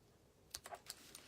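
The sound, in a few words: cutting ribbon for a handmade card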